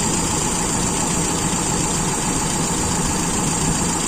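A Toyota Kijang engine idles steadily with its Aisan carburetor being adjusted, a continuous close rumble with even vibration and no talking.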